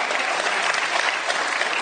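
A steady, dense wash of audience clapping fills the room throughout, loud and close with no breaks, applauding an air traffic controller.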